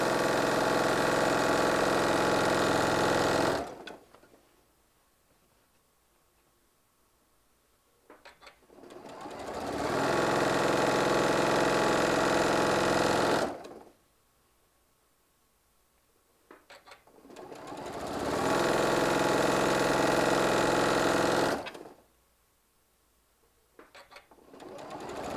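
A sewing machine stitching a fabric hummingbird panel runs in three long, loud, steady bursts of rapid mechanical whirring, each separated by several seconds of near silence.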